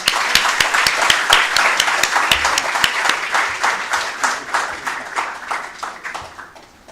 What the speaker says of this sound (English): Now to applaud the efforts put forward by our students and the very capable stage team